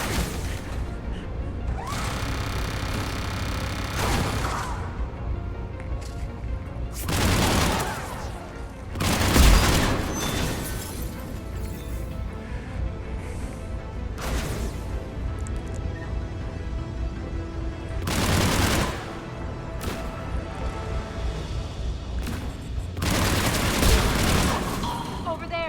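Turret gunfire in the video game Mass Effect 3, sustained bursts of shots and booms that swell loudly at intervals over a continuous rumbling battle bed, with no talk.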